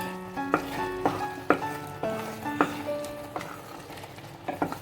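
Grated carrot is stirred and sautéed in ghee for carrot halwa, with a spoon scraping and knocking against the pan in repeated close strokes over a soft, steady sizzle.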